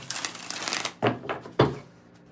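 A deck of tarot cards being shuffled by hand, a dense riffle of rapid card flicks followed by a few sharp separate slaps as the deck is squared and cut, close and clear with no talking.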